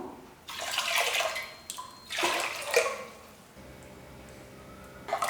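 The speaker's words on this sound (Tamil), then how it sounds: "இந்த பருப்பு வேகத்துக்கு தேவையான அளவுக்கு தண்ணி ஊற்றிக்கலாம்" Water pours in two steady splashing bursts into a pot of lentils for sambar, then stops, leaving a quiet hum before a brief clatter at the end.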